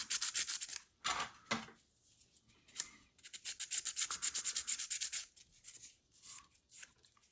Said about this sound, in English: you can kind of see me hitting it real quick with the sandpaper